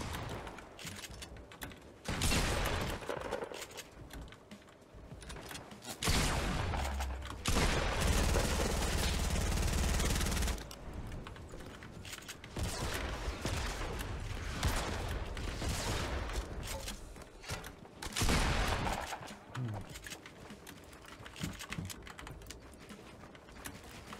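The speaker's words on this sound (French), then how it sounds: "il y a aussi un sniper, je crois qu'il nous tirait dessus" Bursts of gunfire in a first-person shooter game, with loud sustained volleys in the middle and shorter shots scattered before and after.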